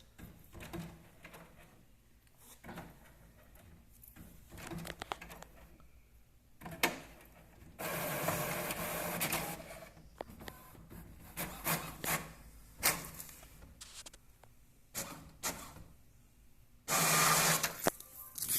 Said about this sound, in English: Oh, it's printing very good.